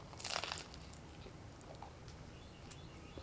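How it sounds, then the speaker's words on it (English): Crunch of a bite into the crust of cheesy garlic bread grilled on a Weber kettle, a crisp burst at the start followed by faint chewing over a quiet background. "Now we'll get a bite and listen to the crunch."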